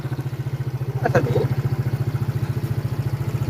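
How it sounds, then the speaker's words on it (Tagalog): A Rusi Adventure X 150i version 2 motorcycle idles close by with a steady, rapid thumping beat, joined by a brief louder clatter near the start and a short spoken remark. "Adventure X 150i na version 2 ng kapatid ko. Ayan. Andar."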